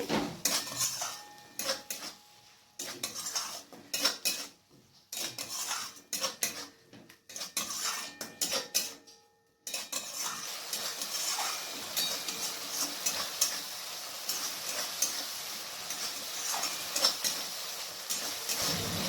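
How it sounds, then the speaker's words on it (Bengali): Tomato paste stirred into spices for a rui fish curry, a utensil scraping and clinking against the pan in uneven bursts with brief pauses, then steady stirring with a faint sizzle underneath. "টমেটো পেস্টটাকে মশলার সাথে আবার ভালো করে মিক্স করে নিচ্ছি"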